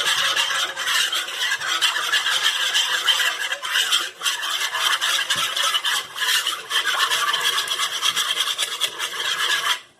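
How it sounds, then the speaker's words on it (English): A whisk gently mixes homemade lavender hand sanitizer in a bowl, giving a loud, continuous close scraping swish in a steady rhythm with no speech. "we're going to take the whisk and we're going to gently mix this together."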